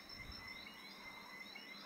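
Frogs croak in a poisonous swamp, the Witchwood Swamp of the Aveyond game, as a steady layered ambient chorus with thin warbling calls over a constant hiss and no talking.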